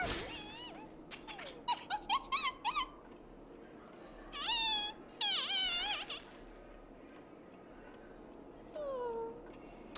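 Numby, a cat-like creature in the video game Honkai Star Rail, lets out a series of high squeaky meow-like calls in short bursts, moderately close over quiet game ambience.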